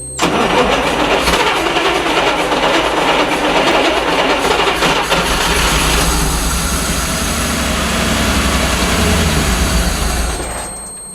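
The air-cooled V8 engine of a Tatra 613 gives a loud, steady roar with a gruff, raspy tone, running continuously for several seconds before easing off slightly at the end.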